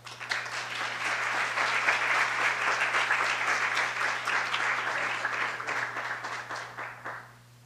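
An audience at a talk on food justice bursts into sustained applause for a speaker, dense clapping filling the room for about seven seconds before tapering off.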